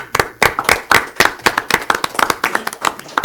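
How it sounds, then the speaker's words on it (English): Loud, close clapping from a few people at a Brawley city council meeting, distinct individual claps in an uneven rhythm over a few seconds. "Let's give them a round of applause"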